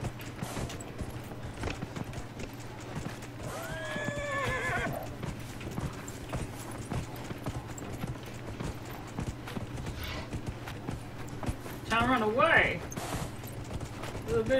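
In Dragon Age Inquisition, a horse gives two whinnies several seconds apart over a continuous, rhythmic clip-clop of hooves and a low steady background hum.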